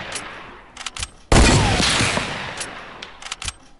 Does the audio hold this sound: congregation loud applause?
no